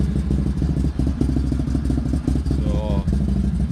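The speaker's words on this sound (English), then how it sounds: "let's start this up. Let's hear the Yoshi exhaust here" A Can-Am Maverick Sport XMR 1000r side-by-side with a Yoshi exhaust fires up and runs, a loud, steady low rumble with clattering texture close by, while someone speaks over it.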